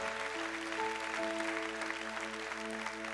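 A church congregation claps their hands during a sermon, with soft, steady clapping running throughout beneath sustained keyboard chords.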